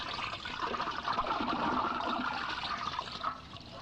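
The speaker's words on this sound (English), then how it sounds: "That's some old toilet flushing." Old toilet flushing, sampled into a lo-fi song: a steady, close rush of draining water that fills the whole stretch without a break, with no voices over it.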